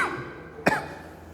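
A single short, sharp cough bursts out near the microphone from a man lecturing in Hindi, standing alone between brief pauses.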